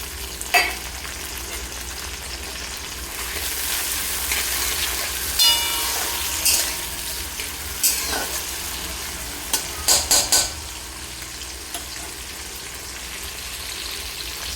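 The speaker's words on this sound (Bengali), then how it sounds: "পেঁয়াজটা একটু লাল করে ভেজে নিব" Onions with chopped tomato sizzle in a pan for a rohu fish curry, a continuous frying hiss broken by several sharp utensil clinks and stirring scrapes, close and fairly loud.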